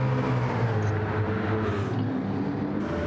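V8 race cars in a racing game at Autodrome Lago Maggiore, engines droning steadily at high revs, loud and sustained with a slight pitch shift as they pass, no voices.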